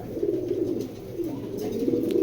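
Pigeons coo steadily at a pigeon farm with club-rested breeding pairs, a continuous low, throaty burbling from several birds close by, with no talk over it.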